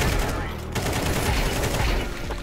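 Dense, rapid gunshots from a GTA V online match keep up a continuous loud barrage for a couple of seconds, close and busy with overlapping game noise.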